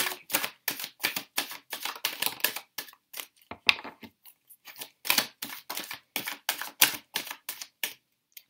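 Tarot cards are shuffled and flipped in quick, crisp bursts of slapping and riffling, close and fairly loud, with short gaps between flurries.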